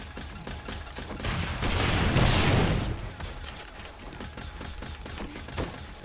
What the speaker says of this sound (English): more turret action